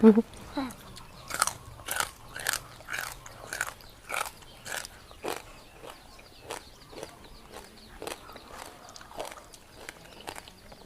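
Crunchy squid tails soaked in boiling fermented fish sauce are bitten and chewed close to the mic, giving a steady series of sharp crisp crunches roughly every half second with faint background noise.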